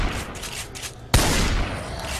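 Gunfire in the Project Zomboid video game, a co-op zombie survival match: a loud, sharp shot bursts in about halfway through over a steady background of game ambience, with no talking.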